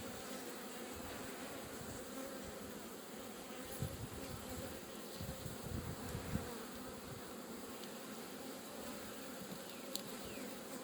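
Dense, steady buzzing of many honey bees from an opened hive box during a brood inspection, a continuous close hum with a few faint knocks and handling sounds, no talking.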